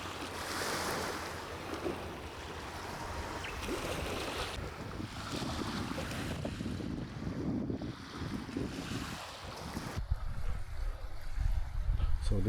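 Ocean waves washing onto a white sand beach in a quiet Japanese port town on the Inland Sea, a steady broadband surf wash mixed with gusty wind noise on the microphone, continuous and moderately loud with no speech.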